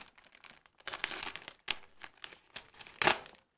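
A plastic package is torn open by hand during an unboxing, giving close, irregular bursts of crinkling and ripping separated by brief quiet pauses, with no talking.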